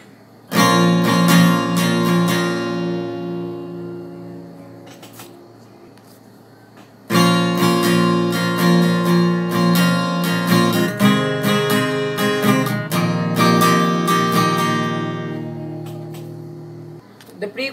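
Acoustic guitar playing a song with a down, down, up, up, down, up strumming pattern, rich ringing chords in two long phrases separated by a brief fade, loud and close with no talking.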